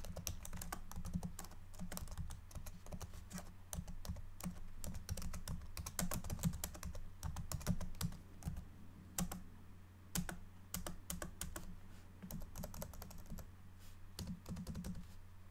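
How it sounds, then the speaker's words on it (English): Computer keyboard typing in a quiet room, a dense run of soft, close clicking taps with brief pauses, continuing steadily for the whole stretch with no voice. "While Stanley was here, typing away the tap-tap-tap of the keyboard"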